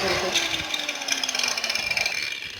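A power tool fitted with a sandpaper blade works over an old air cooler, giving a gritty, rattling grind with a slowly falling whine, close and fairly loud.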